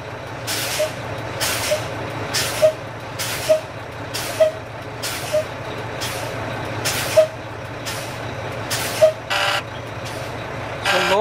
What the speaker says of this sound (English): Now we will pump the brake pedal and drop the pressure to check low air warning.